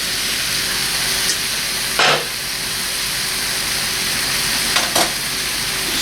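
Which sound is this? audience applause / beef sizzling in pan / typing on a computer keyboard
beef sizzling in pan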